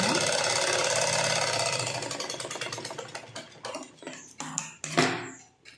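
A sewing machine runs steadily while stitching a seam on a prince cut blouse, its motor hum dense and continuous, then slowing into short bursts and pauses near the end.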